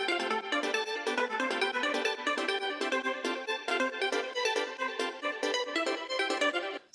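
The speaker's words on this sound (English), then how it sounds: "establish more the harmonic and textural background with this arpeggio right here" A swirling synth arpeggio with effects for a Splatoon-style battle loop runs in fast, even repeated notes, bright and layered, steady and loud throughout with no voices.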